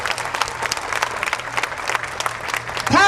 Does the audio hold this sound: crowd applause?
yes